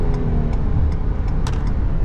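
A Ford Police Interceptor Utility Hybrid with the 3.3L engine holds steady RPMs, giving a loud, continuous low engine drone in the cabin with light ticking clicks scattered over it.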